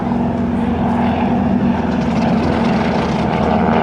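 Propeller aircraft roaring past at an airshow, a loud, steady engine drone with a strong low hum that holds throughout, alone with no voices.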